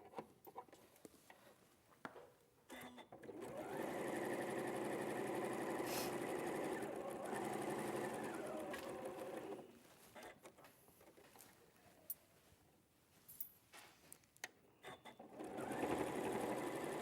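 A sewing machine stitching a fabric patch onto a quilt seam, running in a steady whirring burst for about six seconds, then stopping and starting again briefly near the end amid quiet handling noises.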